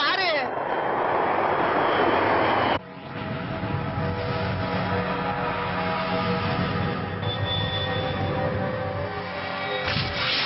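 A jet aircraft roars overhead, loud and sweeping at first, then cutting away to a lower, steady engine drone with tonal whine, rising again briefly at the end.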